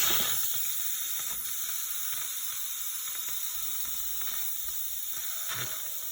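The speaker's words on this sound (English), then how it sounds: "so I released the steam out" Steady, loud hiss of steam venting from a pressure canner on a stove while canning pickled eggs, with faint mechanical rattles and clicks beneath it throughout.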